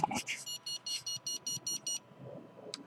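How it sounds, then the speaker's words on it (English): An electronic alarm set off by a hand beeps in a quick run of about eight evenly spaced bright pulses, then stops, with faint background sounds after. "So that's my hand setting off the alarm there."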